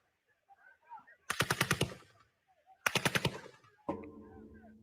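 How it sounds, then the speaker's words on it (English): Automatic machine gunfire in news footage of live ammunition fired near protest sites: two loud rapid bursts of about six to seven shots each, separated by a pause, followed by a sharp crack with a lingering low rumble. "they could identify live ammunition, including machine gunfire, coming from the sites"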